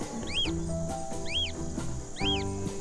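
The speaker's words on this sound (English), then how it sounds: "Parrot," A parrot call: three evenly spaced, arching squawks over steady background music.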